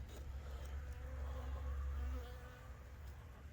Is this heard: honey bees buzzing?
yes